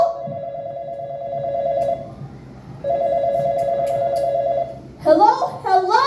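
A telephone in a school play sounds two long steady electronic ring tones separated by a short pause, fairly loud in a hall, followed by a person speaking.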